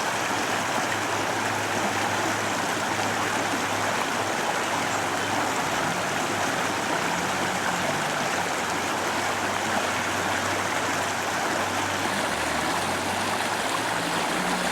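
The Toe River in North Carolina flows steadily with a continuous broadband rush and gurgle, heard close and even throughout with no voices.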